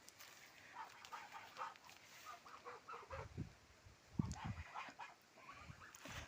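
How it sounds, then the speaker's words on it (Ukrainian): Domestic geese honk and cackle in short bursts at a distance on a cold, windy morning, fairly faint, with scattered clucks and a dog-like bark among them. "Гуси мої гуси."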